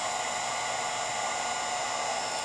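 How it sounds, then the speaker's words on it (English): A heat gun blows continuously nearby while heating shrink tubing over soldered wiring on a C8 Corvette, a constant even whoosh with no breaks. "you can turn your heat gun on"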